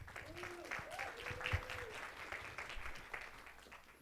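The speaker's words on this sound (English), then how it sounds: "let's give a round of applause to Brian Hyser." Faint applause from a panel audience at a conference session, a brief soft patter of clapping heard at a distance.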